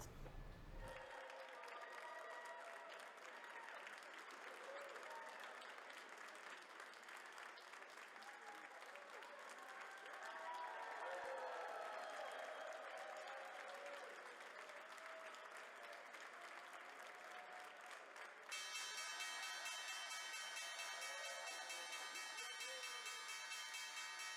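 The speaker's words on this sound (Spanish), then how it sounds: "vamos con el toque de campana de L3 Harris en Wall Street" Applause and crowd noise fill a stock exchange floor at the Wall Street opening bell ceremony for L3 Harris, steady and loud throughout, with a bright ringing tone entering near the end.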